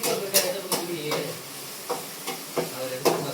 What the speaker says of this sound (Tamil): நல்லா தக்காளி வெங்காயம் நல்லா வதங்குற வரைக்கும் நல்லா கிண்டிக்கணும்